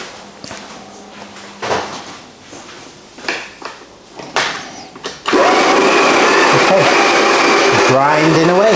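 Espresso coffee grinder: after a stretch of knocks, clatter and handling noises, the grinder starts and runs as a loud, steady whirring drone to the end.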